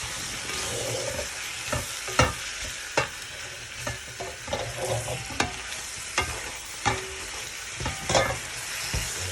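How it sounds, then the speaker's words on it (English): Prawns sizzle steadily in a pan while a wooden spoon scrapes and knocks against it in irregular strokes, close up with no talking. "So let me just get my wooden spoon, which is really noisy."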